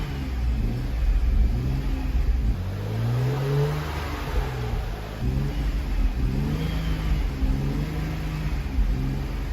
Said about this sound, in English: the car is warm and let's rev it up a little bit